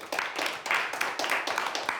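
Audience at a stand-up comedy show clapping in scattered, uneven bursts, moderately loud and fairly close, with no talking over it.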